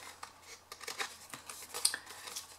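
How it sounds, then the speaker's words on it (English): Scissors snipping wedges out of paper for a small tent-shaped box, a string of faint, close cuts and rustles with no talking. "then cut those wedges out"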